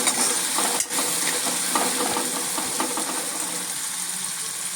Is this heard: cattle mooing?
no